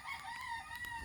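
A rooster crows once, close and fairly clear, a brief strained call against a quiet background.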